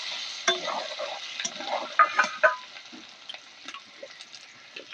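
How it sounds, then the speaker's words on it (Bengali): Fried paneer pieces stirred into spices in a pan, with scattered scraping and clinking strokes of a spoon over a soft background sizzle, close by. "এবার এর মধ্যে যে পনিরগুলো ভেজে রেখেছি সেগুলো দিয়ে দেবো, দিয়ে একটু নাড়ি চাড়িয়ে নেবো"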